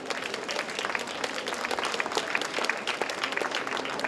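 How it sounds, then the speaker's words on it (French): Audience applause at an award ceremony at the Salon du Chocolat in Paris, a steady dense round of clapping from a crowd at moderate level throughout. "Bien mérité, on vous applaudit."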